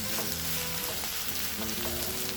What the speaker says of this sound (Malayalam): നന്നായി പച്ചമണം പോകുന്ന വരെ വഴറ്റണം.